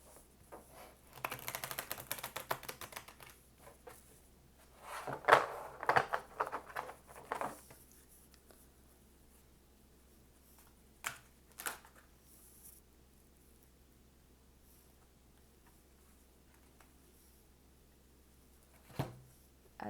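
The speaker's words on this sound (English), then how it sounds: "I'm going to shuffle one more time." Cards are shuffled in two quiet riffling bursts early on, each a quick papery patter, followed by a few soft isolated clicks and taps in an otherwise calm room.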